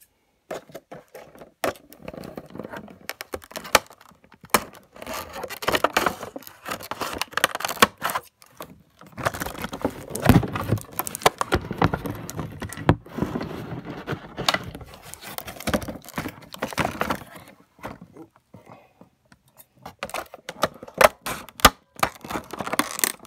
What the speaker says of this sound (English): And to get the Thomas out of this packaging.